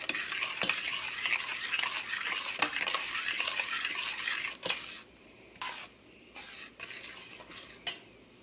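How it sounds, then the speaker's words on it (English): A spoon stirs strawberry jam and sugar in a pot before it boils, scraping and clinking against the pan at close range with soft bubbling, loud at first and quieter with scattered knocks in the second half. "I'm just going to keep stirring."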